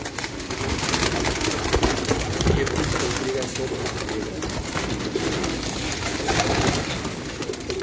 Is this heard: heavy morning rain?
no